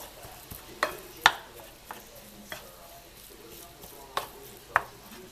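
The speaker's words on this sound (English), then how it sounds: "we're going to mix that all in together" A spoon stirs grated Gouda cheese into a stuffed mushroom filling in a bowl, giving soft squishy scrapes and several sharper clinks against the bowl, close and fairly quiet, with no talking.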